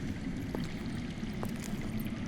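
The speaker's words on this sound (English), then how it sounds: "That's water. I hear water. From underground." Underground water flows with a faint, steady rushing trickle in the Game of Thrones video game, with no other sounds over it.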